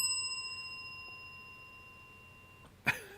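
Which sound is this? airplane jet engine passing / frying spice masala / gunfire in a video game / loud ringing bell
loud ringing bell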